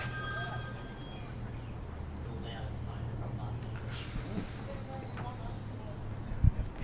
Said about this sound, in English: That was Murray's phone going off.